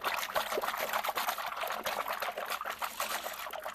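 A pad-soaking cleaning solution for car detailing is stirred in a container, making continuous close sloshing and trickling liquid sounds with small splashes throughout.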